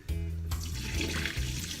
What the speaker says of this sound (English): I pour another hot water on it and then wash it.